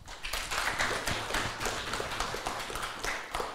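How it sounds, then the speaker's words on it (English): An audience at an amateur radio conference talk bursts into dense, sustained applause, with many overlapping claps continuing at an even level for several seconds. "please give a warm applause to Marie Lorenz."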